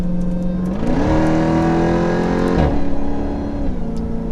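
A 2018 Jeep Grand Cherokee Trackhawk engine with a JLT intake drones with a distinct supercharger-style whine that climbs in pitch as it revs, drops briefly, then settles again, loud and close.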